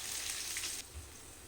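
Green chillies, curry leaves and onions frying in hot oil in a pan, giving a steady close hiss of crackling sizzle that drops to a quieter simmer partway through, with no voices.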